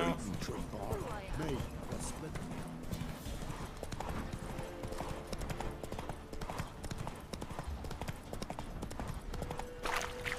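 A horse gallops in The Witcher 3 video game, its hooves clip-clopping in a steady, close, loud rhythm through the whole stretch, with voices and game sounds layered underneath.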